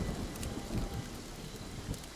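Steady rain falls in the Friday the 13th video game, a dense continuous hiss with low rumbling and a few louder gusty swells, heard alone with no voices.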